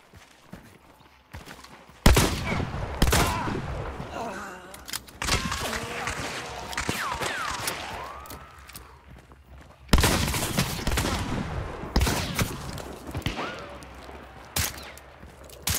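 Loud bursts and blasts from a chaos bomb in the Hunt: Showdown game, crackling explosions in two waves with scattered sharp pops between, mixed with brief talk.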